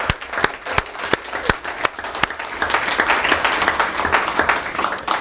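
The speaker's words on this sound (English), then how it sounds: "round of applause, please, for Kukai" An audience at an arts-of-communication event claps for a speaker coming to the stage, starting with a few sharp, distinct nearby claps that swell into fuller, continuous applause.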